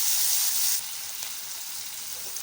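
Cumin, mustard seeds and asafoetida frying in hot oil in a kadai, a bright steady sizzle that is loud at first, then settles into a softer crackle.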